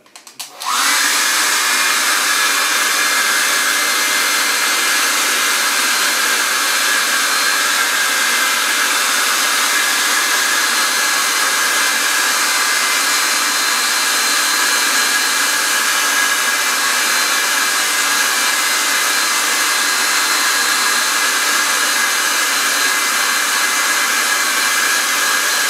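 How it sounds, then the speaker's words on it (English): Nearby, a handheld hairdryer used to speed up drying paint switches on and blows with a loud, steady, even whoosh. It keeps going without a break. "what I can do is get my hairdryer"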